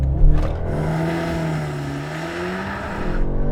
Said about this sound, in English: So I'm going to launch the car.